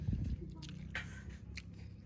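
Close, quiet chewing of a fish and potato curry with rice in a village setting: soft moist bites and squishy mouth sounds in a short, irregular sequence.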